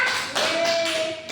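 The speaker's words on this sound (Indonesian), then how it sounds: "Tepuk tangan untuk kita semua." Students clap together in a classroom, a brief burst of close hand claps in a few quick beats with a faint tone ringing underneath.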